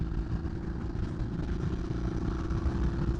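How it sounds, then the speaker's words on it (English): V-twin motorcycle engine idling through an aftermarket exhaust with a deep, throbbing rumble, steady and fairly close, no voices. "there's something about hearing a V-twin and this tab exhaust"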